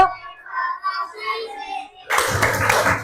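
Schoolchildren in a fifth-grade classroom break into a loud burst of clapping for a water-cycle clap chant, following a stretch of someone speaking alone.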